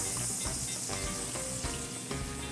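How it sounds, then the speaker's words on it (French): Caramelized sugars being deglazed in a hot pan while cooking a Dijon chicken dish: steady, loud close-up sizzling and bubbling that runs unbroken throughout, with no talk. "Je vais venir déglacer mes sucres."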